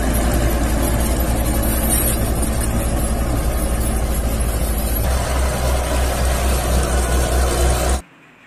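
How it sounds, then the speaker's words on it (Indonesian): Toy bulldozer's engine idling, a steady low rumble that holds for about eight seconds, deepens slightly midway, then cuts off abruptly into near silence. "Wadidaw, ini mobil bulldozer."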